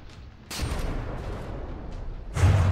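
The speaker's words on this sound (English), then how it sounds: "another direct high explosive hit, shearing off a bunch of barrel" High explosive shells striking in the naval combat game From the Depths, two sharp booming impacts with noisy bursts, one early and one near the end, with a rumbling tail between them and no talk.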